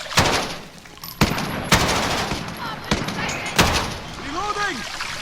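MP5K submachine gun fired from the hip in Modern Warfare, several sharp loud bursts spaced a second or so apart over game background sound, with someone talking between shots.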